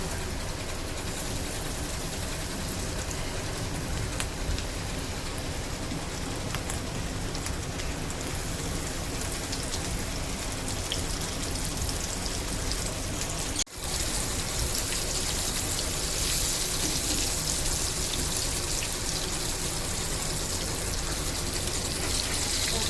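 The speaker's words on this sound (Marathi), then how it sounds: "आता आपलं इकडे तेल गरम झालं आहे आपण एक एक तुकडी माशाची टाकून घेऊ" Pieces of pomfret fish frying in hot oil, a steady dense sizzle running throughout with one brief sharp break midway, close and fairly loud, no talk.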